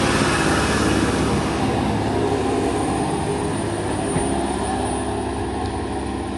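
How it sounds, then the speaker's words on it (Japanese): A steady, heavy engine drone with rumbling machinery from a JR H100 series electric-drive diesel train accelerating, continuous and fairly loud, slowly fading as it pulls away from Mikage Station on the Nemuro Line. "外から見てどういう加速の時の音が鳴るのかをお楽しみください。"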